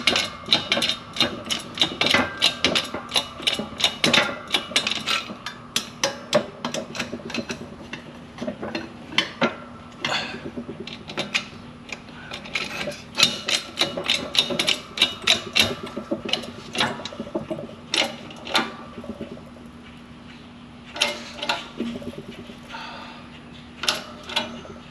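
Press forcing a SuperPro bushing into a car's rear lower control arm, a dense run of rapid mechanical clicks and ratcheting taps with metallic creaks, continuous and fairly close for the whole stretch.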